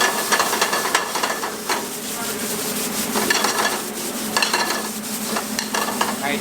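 Beef filet searing in a very hot pan, a steady close sizzle with occasional scraping and clinks of a utensil against the pan, no voices.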